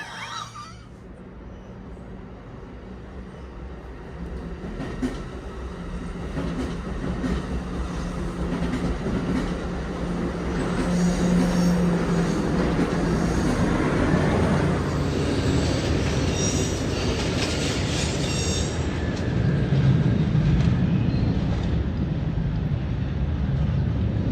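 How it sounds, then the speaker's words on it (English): A Capital Corridor passenger train bound for Sacramento rolls past, a steady rumble that builds and swells with wheel clatter and squeal, loud and sustained throughout. "that's a Capital Corridor train that's headed for Sacramento"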